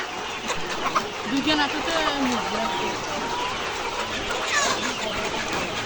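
Several layer hens from a layer farm cluck and squawk in short bursts close by during a delivery at Saidpur Cantonment, while people talk over the noisy flock.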